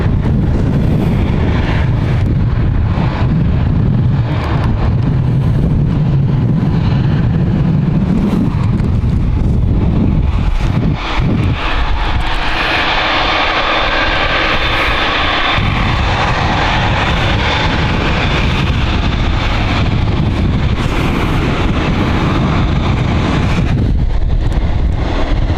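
NetJets business jet lining up on the runway at Edinburgh Airport, a steady broadband jet engine roar at moderate distance, with wind buffeting the microphone throughout and the engine note thickening partway through.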